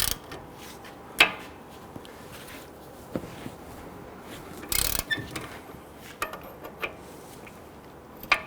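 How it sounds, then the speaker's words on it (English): A 22mm socket wrench working the caliper bracket bolts on a Nissan Quest, with scattered metallic clanks and ratchety knocks, one loud burst midway and irregular clicks, close and unaccompanied by talk. "Using a 22mm socket, loosen and remove the 2 caliper bracket bolts."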